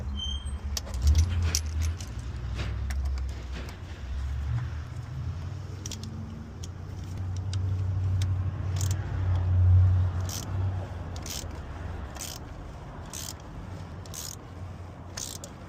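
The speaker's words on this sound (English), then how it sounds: "Now we're going to use the ratchet and bring it straight down." Hand ratchet working on a bolt of a 2020 Chevy Trax during an oil service: a steady run of evenly spaced, crisp metallic clicks over a low, steady background rumble.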